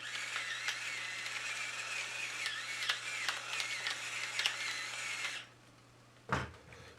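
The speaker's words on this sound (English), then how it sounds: "Some fresh ground pepper." Pepper grinder cracking fresh pepper into homemade enchilada sauce: a quiet, steady gritty grinding for about five seconds over a faint hum, then stopping, followed by a single soft knock.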